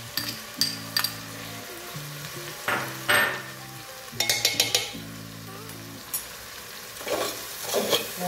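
Chopped onion and garlic sautéing in a pan, a continuous sizzle broken by repeated scraping stirs and clinks of a spoon against the metal, close and fairly loud.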